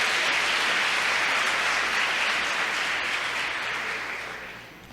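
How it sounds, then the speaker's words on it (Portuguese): A church congregation at a revival festival bursts into loud, dense applause and hand clapping, a thick continuous wash that holds steady and then fades toward the end. "Let's just give him a hand clap on"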